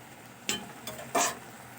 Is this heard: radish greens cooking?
yes